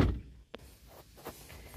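A door on a 2002 Toyota Granvia minivan is shut with a single soft, muffled thunk, followed by faint knocks and handling sounds at low level.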